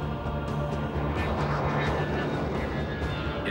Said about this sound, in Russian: Неожиданно над крышами домов Москвы, на высоте всего лишь 250 метров, прогремел реактивный гигант.